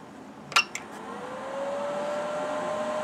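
A Shimadzu LC-10AD HPLC pump running on 115 volts powers on, giving a couple of sharp clicks and beeps before a steady motor hum and a rising whine settle in for the rest.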